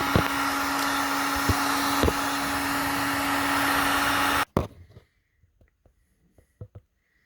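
A hot air blower roars steadily up close while heating heat shrink tubing on a soldered battery lead, with a few faint clicks, then cuts off to quiet handling taps.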